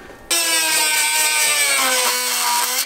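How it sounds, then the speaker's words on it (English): A Dremel bit grinds at a weld in a Honda Integra engine bay, a loud, steady high-pitched whine starting abruptly and holding for a few seconds with slight dips in pitch as it bites, up close. "we're going to use a little Dremel bit, actually give it a shot, see if it works"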